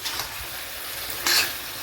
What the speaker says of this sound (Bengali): এবার মোটামুটি কিছুক্ষণ আমি এটাকে একটু ভালো করে আমি আরও একটু ভেজে নেব, যাতে হলুদটা নিজের কাঁচা গন্ধটাকে ছেড়ে দিতে পারে